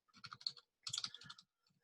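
Fingers tap a computer keyboard, including the Tab key, in two short bursts of quick, close, quiet clicks separated by a brief pause.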